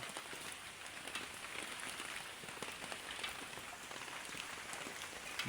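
Raindrops drip from a tin roof, a lighter scattered patter over a continuous soft wash of water, steady throughout.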